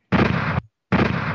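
Two loud, flat blasts of a gunfire sound effect played over a phone during a prank call, each lasting about half a second with an abrupt cutoff and a short silent gap between them.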